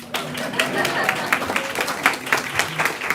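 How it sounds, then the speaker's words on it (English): Audience clapping to welcome a middle school girls basketball team at a county board of education meeting, a steady patter of scattered claps over a room murmur with some voices. "We'll keep clapping while they usher in."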